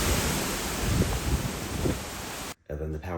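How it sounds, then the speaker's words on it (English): Strong hurricane wind roars and buffets the microphone in a broad, rushing noise, cutting off abruptly as a voice begins speaking. "It's really windy though"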